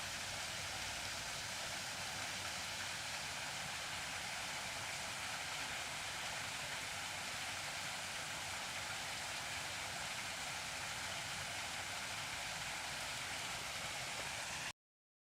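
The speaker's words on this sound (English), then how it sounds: "right now the water is going through the ravine" Stream water flowing through a ravine in Prospect Park, a steady broadband rushing wash that stays even throughout, close and fairly loud, with no voices.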